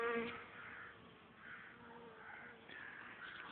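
Honeybees buzz steadily around a hive in poor weather, the hive affected by varroa mite infestation. The hum is continuous and swelling, fairly close, with faint crow-like calls in the background and no talk.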